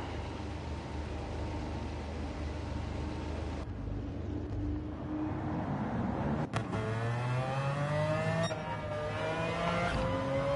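A car engine in the racing video game Gran Turismo 7 drones steadily, then revs up with rising, accelerating tones in the second half, loud and up close.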